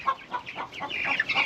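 A hen clucks repeatedly at close range, a series of short, throaty calls in an uneven rhythm.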